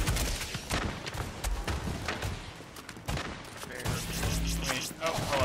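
Continuous dense automatic gunfire from a shooter video game, with rapid overlapping shots, booms and mortar impacts during a fight against an armored APC, loud throughout with a voice talking faintly underneath.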